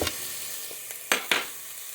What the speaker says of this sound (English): Hear that sizzle in there.